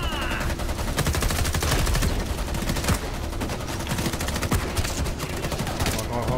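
Rapid automatic gunfire in the shooter Homefront: The Revolution, dense sustained bursts of shots that stay loud and continuous throughout.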